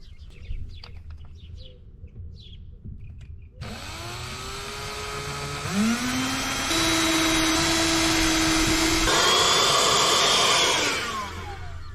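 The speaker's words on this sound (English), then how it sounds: "I'm gonna drill just a small pilot hole." A small power drill starts after quiet, whining steadily and climbing in pitch as it bores a small pilot hole for sink screws in a camper van, loud and close, then winds down.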